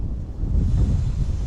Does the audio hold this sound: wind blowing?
yes